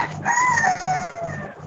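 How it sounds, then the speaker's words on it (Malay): A rooster crows close by, one loud, drawn-out cock-a-doodle-doo with wavering pitch and a clucking tail, heard clearly on its own. "Bunyi ayam pun ada tu"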